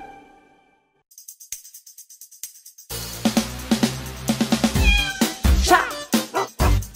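A cat meows repeatedly in a quick series of loud, close calls, preceded by a few soft tones and light ticking.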